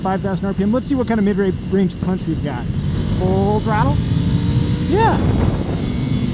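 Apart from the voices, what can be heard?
Ducati Scrambler motorcycle at full throttle in third gear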